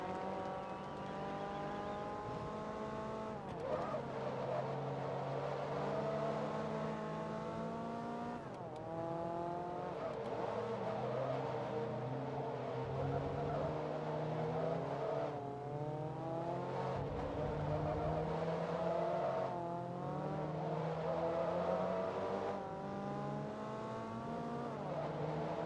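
A Mazda Miata race car in Forza Motorsport 2 on Xbox 360 drives with a steady engine drone that rises through repeated revs and gear changes, continuous and prominent with no voices.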